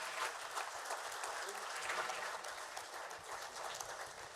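Sustained audience applause fills a hall at a continental youth symposium opened by Uganda's President Museveni, a steady dense clatter of many hands held at even loudness throughout.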